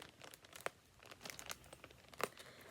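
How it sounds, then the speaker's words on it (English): Scissors snip at a plastic bag holding new yarn, giving a few sharp crinkling cuts and rustles, two of them loud and close, with quieter plastic handling between them. "I'm going to try to cut open the bag"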